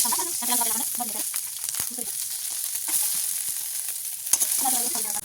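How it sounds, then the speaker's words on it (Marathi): Onion frying in oil in a pan, browning to a reddish colour, with a steady sizzle running throughout; a voice speaks over parts of it. "अशा पद्धतीने आपल्याला लालसर कांदा भाजून घ्यायचा आहे"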